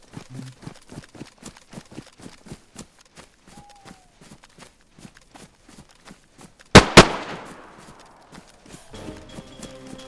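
Two sharp, loud gunshots ring out close together in a DayZ match, with a decaying echo after them. Before the shots, steady footstep-like clopping runs through the scene.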